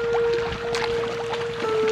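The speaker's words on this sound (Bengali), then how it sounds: "নৌকা ঘুরিয়ে নেওয়া হচ্ছে" A boat on dam water turns around in the evening, a steady engine drone with a constant hum and water swishing against the hull, loud and close with no talk.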